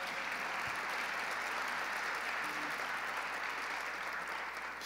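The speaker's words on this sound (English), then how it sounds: "Let's give him a big round of applause." Audience applause at a business association luncheon in New York, a sustained, even patter of many hands clapping that holds steady throughout with no voices over it.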